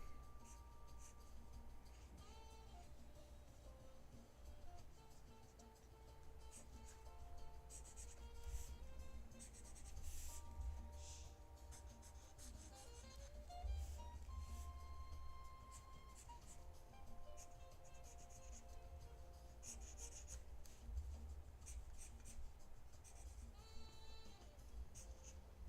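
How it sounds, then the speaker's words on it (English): Pen or pencil strokes while drawing chainmail for a graphic novel cover, soft scratchy rubbing that runs steadily over a low background hum, with no talking. "I'm gonna have to do a lot of chainmail practice. Drawing chainmail."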